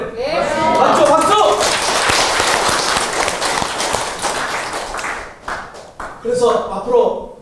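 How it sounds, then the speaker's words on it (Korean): Crowd at a lecture in the National Assembly hall breaking into loud applause, with voices and cheers mixed into the clapping, which fades after about five seconds before a speaking voice returns. "박수!"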